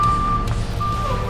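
A tow truck sounds its reversing alarm, steady high beeps with a short break, over the low rumble of its idling engine nearby.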